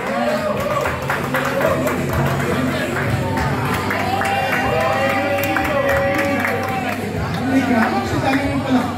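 Live audience crowd noise with scattered clapping and cheering, a steady dense roar lasting throughout, with voices mixed into the din.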